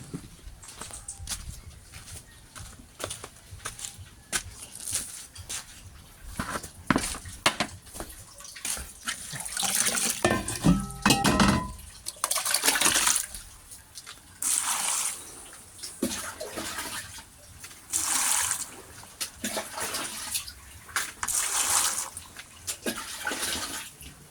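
Cassava roots washed by hand in water, with steady splashing and sloshing that swells in repeated waves over the whole stretch, close by, with no talk.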